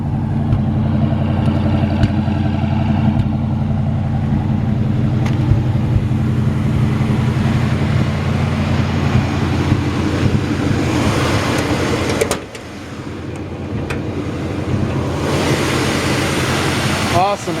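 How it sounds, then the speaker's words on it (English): The engine of a 1964 Ford Galaxie 500XL runs at a steady idle, a low throaty rumble close by, with a brief drop partway through and a person talking over it. "It's got a great sounding engine."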